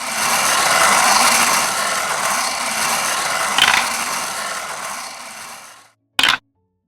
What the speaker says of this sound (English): So now it's time to spin the bingo wheel.